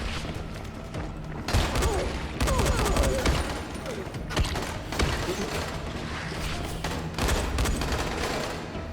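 Gunfire in the game Dying Light: several loud bursts of shots, some sharp single cracks and some heavier volleys, spaced irregularly with pauses between them, while a voice talks over the action.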